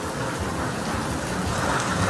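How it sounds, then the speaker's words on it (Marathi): Heavy rain pours down at a farmhouse in a constant, loud, even roar with low rumbling beneath and no voices. "हो का पाऊस सुरू झाला इथे"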